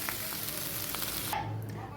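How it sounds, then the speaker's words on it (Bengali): Cold water splashes into a curry frying in a pan, a soft continuous sizzle and hiss that dies down as the liquid goes in. "জলটা দিয়ে দেবো পাশে গ্যাসে ভাত বসানো আছে আমি আর জলটা গরম করতে পারলাম না ঠান্ডা জলটাই দিয়ে দেব"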